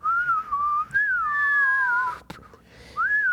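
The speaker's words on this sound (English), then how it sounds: "that just sounds like every cartoon bomb I've ever heard" Cartoon-style falling bomb whistle: a loud, clean tone that glides and wavers for about two seconds, breaks off, then starts again near the end, with no talk over it.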